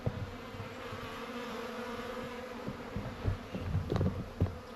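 Bees buzz steadily around empty wet honey supers stacked on a trailer on a mild evening, a dense, continuous drone with a few louder, closer passes near the end.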